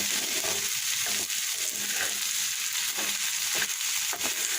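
Vegetables frying uncovered in a little oil give a steady, close sizzle that runs unbroken through the whole stretch, with soft stirring scrapes and no voices.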